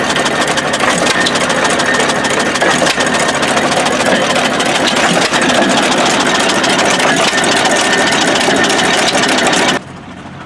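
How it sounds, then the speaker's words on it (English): Small antique hit-and-miss engine running at a car show beside an old-style drilling rig, a steady close mechanical chugging with a rapid, even rhythm that cuts off abruptly at the end. "Little hit and miss unit."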